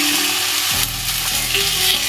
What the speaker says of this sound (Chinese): 煸肉，这肉要煸一会儿，肉中有水分。